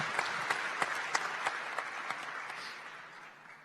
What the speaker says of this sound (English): you should applaud for him because he's doing a great job